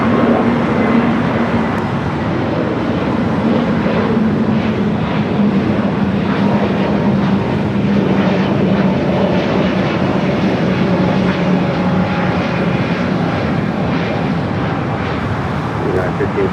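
A jet airliner on its takeoff run from runway 25 Right at Los Angeles International Airport, a steady broad engine roar with a low droning tone holding for the whole stretch, heard from a distance.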